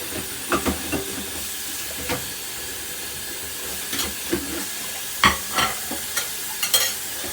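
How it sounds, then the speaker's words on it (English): A spoon stirs beef stew in a pot, bubbling and sizzling under a steady hiss, with scattered clinks and scrapes coming in short clusters, close and fairly quiet, no talking. "every now and then keep stirring it so it doesn't get burnt or stuck at the bottom or anything like that"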